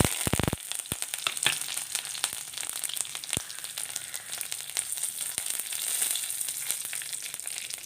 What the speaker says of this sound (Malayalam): വെളിച്ചെണ്ണ ചൂടായപ്പോൾ രണ്ട് രണ്ട് കറിവേപ്പില ഇട്ട് കൊടുക്കാം